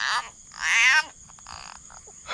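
Frogs croak in a rice field at night, a loud nearby rasping call followed by quieter, shorter croaks, with no voices.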